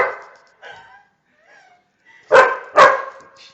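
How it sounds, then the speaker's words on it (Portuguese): A dog barks at a crab, with a couple of faint yips first, then two loud sharp barks close by, separated by short pauses. "Não adianta latir, filho."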